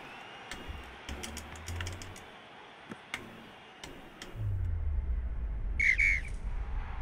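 Referee whistle from a Handball 21 video game match, a couple of short shrill blasts near the end over a steady crowd-noise bed, preceded by keyboard-like clicks.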